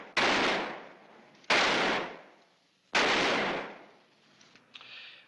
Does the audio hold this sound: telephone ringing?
no